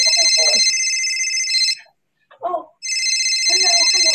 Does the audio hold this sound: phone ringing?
yes